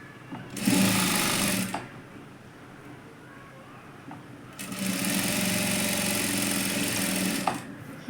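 A domestic sewing machine stitches a four-tuck blouse seam in two sustained motor bursts separated by a quieter pause, close and steady, with no talking.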